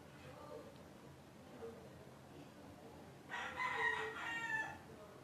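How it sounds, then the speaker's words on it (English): Roosters crowing in the background, one loud cock-a-doodle-doo rising near the end over faint ambient noise and soft clucking. "Pardon the roosters if you hear them."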